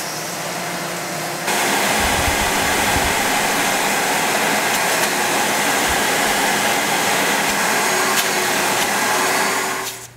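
A compact shop vac pulls air through a bucket cyclone dust separator, switching on after a moment into a loud, steady broadband roar that holds for about nine seconds before cutting off.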